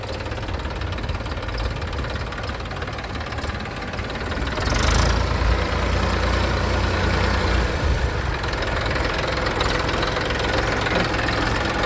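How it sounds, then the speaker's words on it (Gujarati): Massey Ferguson 241 diesel tractor engine idling with a steady knocking chug, growing louder about halfway through and holding a heavy close rumble, no talk. "તમને બતાવીએ ટ્રેક્ટર ચાલુ કરીને આગળ આવો તો ભાઈ"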